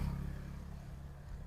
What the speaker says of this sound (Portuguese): é o ronco mais bonito que existe de motocicleta, é o ronco da Sete Galo